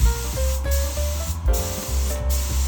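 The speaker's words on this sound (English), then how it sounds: "I handed it to a friend who has all the necessary equipment to spray paint it." A continuous hiss of a spray gun applying epoxy primer and two-part polyurethane paint to a 6 m military-grade Zodiac rescue boat runs throughout, close and steady, with a low mechanical hum beneath and brief breaks where the spray pauses.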